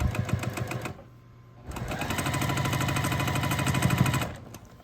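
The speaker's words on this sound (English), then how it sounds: "Now sew down the length." A sewing machine stitches a quilt block for a scrappy sampler quilt, running in a steady whirring burst, pausing briefly, then running again for a longer stretch, close and alone.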